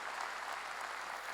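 A church congregation at a revival meeting applauds together, a soft, distant, even patter of many hands clapping steadily for a brief moment.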